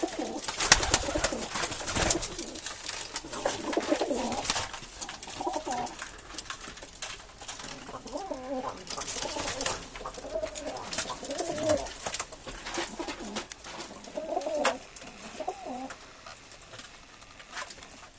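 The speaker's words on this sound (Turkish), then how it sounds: "tip güvercin üretiyoruz" Tip pigeons coo and flutter throughout, a busy loft chorus with soft wing patter, while a person talks intermittently nearby.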